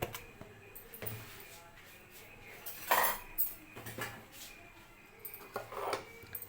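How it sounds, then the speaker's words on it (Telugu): Cucumber pickle pieces with turmeric and chili being mixed with a spoon in a bowl, giving scattered light clinks and scrapes of metal on the dish, close and fairly quiet. "ఇలా ఒక చెంచా పెట్టుకొని ఇదంతా ముక్కలు కలిసేలాగా కలుపుకోవాలి"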